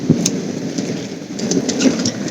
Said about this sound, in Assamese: আজি ইয়াতে ইমান বৰষুণ দি আছে ৰাতিপুৱাৰ পৰা